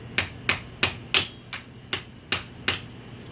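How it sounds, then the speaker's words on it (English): Eight sharp, evenly spaced hammer blows strike a nail being driven further into a wooden board, each a crisp ringing impact with a short decay, close and loud with nothing else heard. "Now I want to drive it a little further into the board."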